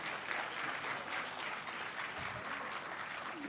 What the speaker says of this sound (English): Can we have a round of applause as well